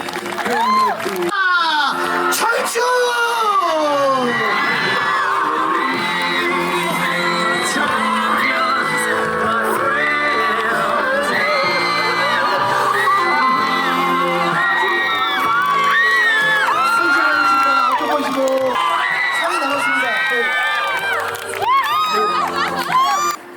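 An emceed corporate event crowd cheers and shouts loudly, many voices whooping and yelling together in overlapping rising calls, sustained for over twenty seconds and close by.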